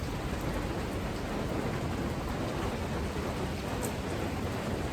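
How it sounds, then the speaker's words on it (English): Steady rain pours down in a public park, a dense constant hiss with the patter of drops on surfaces, no voices. "Yeah, it's raining, y'all."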